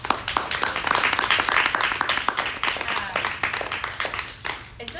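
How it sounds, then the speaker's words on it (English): Dense, steady clapping from a crowd fills the clip, sustained for several seconds with uneven bursts of hands. "A round of applause for everyone who."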